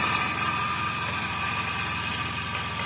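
Serpentine belt noise on a 2010 Chrysler Town and Country with the 3.8L engine idling, a steady close mechanical hum with a rapid repetitive ticking pulse and faint high whine.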